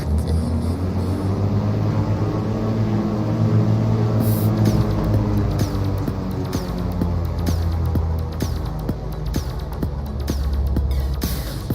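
Cessna 414AW Chancellor twin-engine plane taxiing in Microsoft Flight Simulator: a steady, loud engine drone and rumble holds throughout, with faint clicks and ticks over it and no talking.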